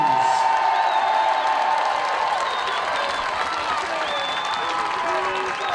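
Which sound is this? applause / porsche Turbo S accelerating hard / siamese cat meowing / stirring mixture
applause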